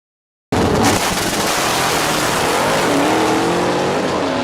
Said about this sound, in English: 1964 Ford Fairlane Thunderbolt.